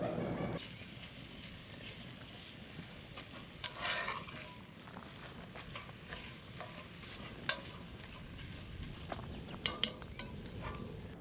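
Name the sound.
beef sausage being broken up and cooked in a pot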